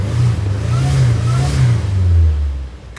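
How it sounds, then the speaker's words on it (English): A supercharged Toyota 3RZ engine in a 4x4 Toyota Sunrader motorhome runs with a loud, close low drone that rises and falls slightly, a faint high supercharger whine threading above it before fading out. "Still hear the supercharger whine."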